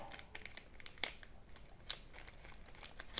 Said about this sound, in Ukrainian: Ось давайте відкриємо послідній наш шостий пакет.